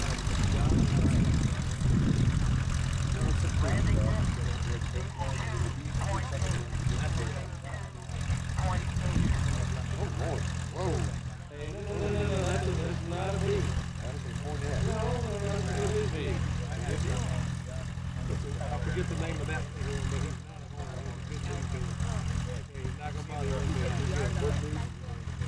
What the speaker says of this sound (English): that landing with that Carbon Cub EX